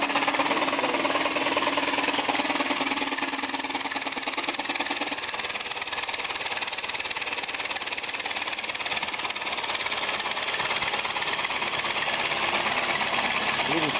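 Compressed-air go-kart engine running after its valve is opened, a loud steady rapid chugging drone that holds throughout, with a voice talking over it.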